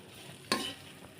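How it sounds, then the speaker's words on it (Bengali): Onions frying together with prawns in a wok: a low frying hiss with one sharp burst of sizzle or stirring midway, short and close. "চিংড়ির সাথে আমি পেঁয়াজগুলোকে ভেজে নিচ্ছি।"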